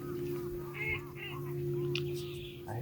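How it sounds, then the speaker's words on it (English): Ducks calling close by during a waterfowl hunt in South Dakota, short bursts of quacks and honk-like notes over a steady low hum, with brief bits of speech. "I hear them quacking."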